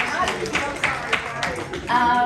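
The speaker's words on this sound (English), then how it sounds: "A round of applause to you all." Clapping from an audience at a panel discussion event rises and falls, fairly dense and mid-level in loudness, with a voice murmuring underneath.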